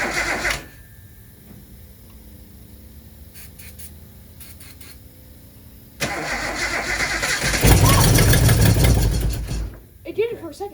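Cold car engine on choke, not run in a long time, cranks and briefly catches, a loud rising burst of running before it fades, with people talking before and after.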